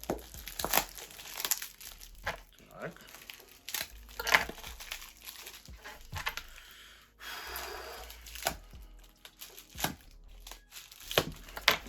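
Quiet, close crinkling and tearing of parcel packaging and heavy tape in irregular bursts, with soft rustles and a few breaths between them.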